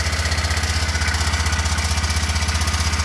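The small engine of a BMW Isetta idles steadily up close, a loud, even, low throbbing pulse that holds for a few seconds with no other sounds.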